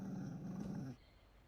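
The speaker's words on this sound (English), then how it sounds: "You found a dog?" A Mabari war dog in the Dragon Age: Inquisition video game gives a low, rumbling growl for about a second, close and fairly quiet, then falls silent.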